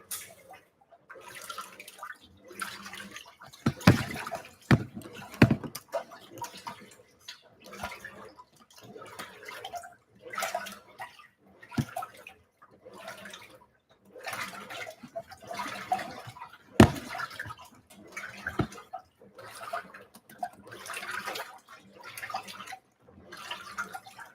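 A Simpson Esprit 550 washing machine, set to a woolens cycle, fills with warm rinse water: a steady, moderate rush of water into the drum, broken by irregular splashes and knocks over roughly twenty-four seconds, with no talk.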